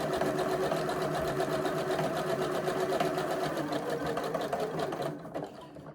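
A sewing machine runs a final stitching line, a steady fast mechanical whir and rapid needle clatter heard close and alone, slowing and stopping near the end.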